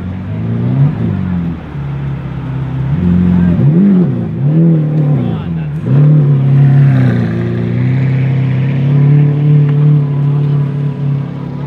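Pagani Zonda Tricolore supercar at a car show, its engine blipping and revving several times before settling into a loud, close, throaty idle, with crowd voices audible underneath.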